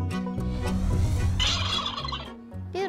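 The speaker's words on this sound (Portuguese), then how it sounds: "Peru." A farm turkey gobbles loudly and close, a rapid rattling burst in the middle followed by shorter calls, with no talk over it.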